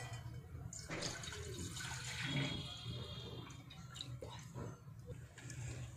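Full-cream fresh milk is poured into a pan for rice kheer, a steady close gurgling splash of liquid running for several seconds with small shifts in flow.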